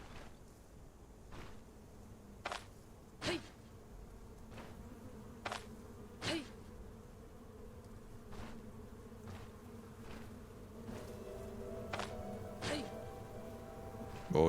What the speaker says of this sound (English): Come get some, little bumbler bee.